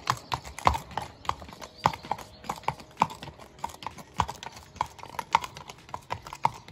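A horse ridden along the Camino de Santiago clip-clops at a walking pace, its hooves striking in a regular, fairly close rhythm, with no speech over it.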